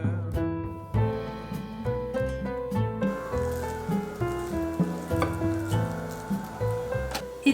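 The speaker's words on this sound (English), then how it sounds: "It is better to get the sizzle while pouring, so it would be better to have a warm sherbet pouring over hot baklava." Warm sherbet syrup sizzles as it is poured over hot Turkish baklava made with phyllo pastry, a steady soft crackle running under background music.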